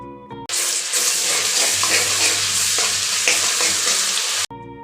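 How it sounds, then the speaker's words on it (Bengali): Grated garlic hits hot oil already holding whole cumin, dried red chilli and a bay leaf, giving a loud, steady hiss and crackle that starts abruptly and stops after about four seconds, with no talk over it. "ফোড়ন হালকা ভাজা হয়ে গেলে দিলাম 1 চামচ গ্রেট করা রসুন"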